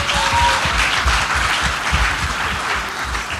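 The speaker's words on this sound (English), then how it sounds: "let's give Diana another round of applause" Steady applause from a conference audience fills the room, dense and sustained clapping at close range for a few seconds with no talk over it.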